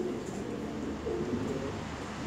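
Domestic pigeons kept as breeding pairs coo in soft, low, throaty phrases, close by and steady against a faint background hum.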